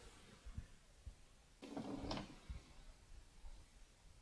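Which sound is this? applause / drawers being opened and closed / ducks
drawers being opened and closed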